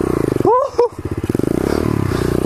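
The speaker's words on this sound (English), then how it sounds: "Like I'm doing a fucking burnout." A pit bike engine buzzes up close in rapid, pulsing revs during a burnout, with a brief scraping screech and a clatter early on before the steady throbbing engine note continues.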